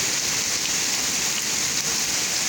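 Heavy rain pours down steadily during Texas flooding, a dense, unbroken hiss of water close by that fills the whole stretch with no voices.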